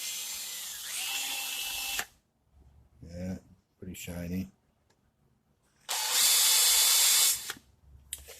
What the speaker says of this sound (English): drill that carbon right out of there.